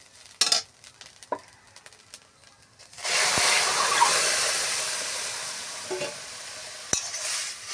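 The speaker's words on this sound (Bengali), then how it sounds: "গাজর ভাজা ভাজা হয়ে গেছে, এবার দুধটা এতে দিয়ে দেবো।" Milk poured onto fried grated carrots in a pan while making carrot halwa: a few scattered clicks and scrapes, then a sudden broad hiss and sizzle that slowly fades, with a couple of sharp utensil taps near the end.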